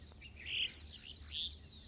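Two short, bright bird chirps ring out a moment apart over a faint, steady background, with no voices.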